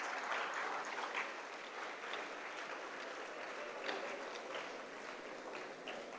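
Audience applause at a university undergraduate orientation: steady, dense clapping from a large crowd that fills the whole stretch at an even level, with no voices over it.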